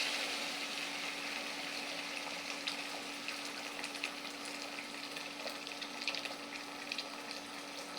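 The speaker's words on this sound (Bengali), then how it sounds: "আর তারপর আমি এতে গরম পানিটা দিয়ে দিয়েছি" Hot water poured into a pan of sizzling masala for a village-style fish and seedy plantain curry gives a steady, even hiss and bubbling that holds throughout, with no talking.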